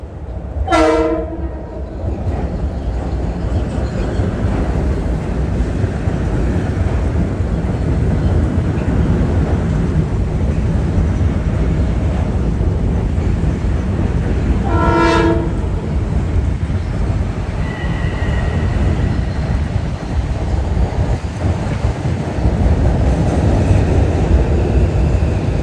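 A commuter train pulls into Harlem 125th Street station on a freezing night, its horn sounding loudly at the start and again midway over a steady rumble of wheels and motors that runs throughout.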